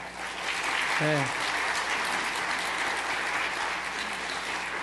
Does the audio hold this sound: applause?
yes